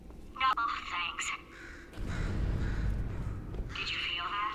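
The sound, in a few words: bird cawing in Portal 2 video game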